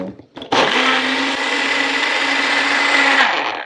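A blender mixing ginger salad dressing with olive oil whirs steadily at high speed for a few seconds after a brief quiet start, loud and close, then cuts off.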